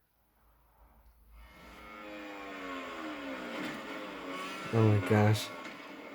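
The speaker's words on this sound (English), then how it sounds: "Today I'll show you an insane crash" Motorcycle engines whine and rise in MotoGP 22 racing play, swelling from near silence into a sustained rising drone, with a speaker reacting over it in an excited voice.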